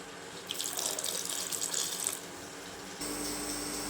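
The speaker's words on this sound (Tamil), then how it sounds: "அந்த வாழைக்காய் மூழ்கிற அளவுக்கு நம்ம தண்ணி ஊற்றி வேக வச்சுக்கலாம்" Water is poured into a pot to boil plantain, a steady close splashing rush that lasts a few seconds and shifts in tone near the end.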